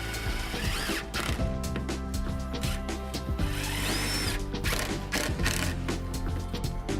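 Power driver sinking 4-inch screws into an ICF window buck, heard as repeated close, loud whirring bursts with short pauses and a brief rising whine partway through.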